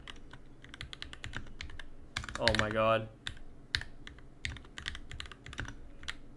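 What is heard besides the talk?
typing on a newly built NK65 mechanical keyboard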